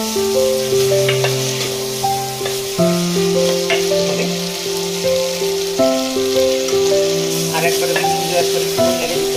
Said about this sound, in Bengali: এবারে আমি ছোলাটা দিয়ে দিচ্ছি, ভালো করে মশলাটা করে দিচ্ছি।